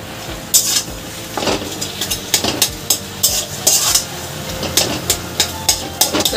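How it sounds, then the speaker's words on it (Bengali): Boiled potatoes being fried and stirred with salt, turmeric and chilli powder in a kadai for an idli stuffing, with repeated scraping and clanking of a spatula against the pan over a soft sizzle, close and rhythmic. "তার সাথে আমি আলুগুলোকে ভালো করে ভাজা ভাজা করে দেব।"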